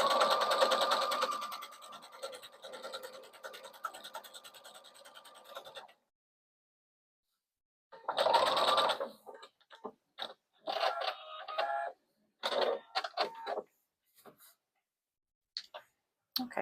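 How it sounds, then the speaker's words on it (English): Sewing machine stitching along both sides of a tote bag strap backed with fusible fleece, about 5/8 inch from the edge, running in a long steady burst, then in short stop-start runs separated by silence. "Now we're going to sew both sides of the strap, the open side and the folded side."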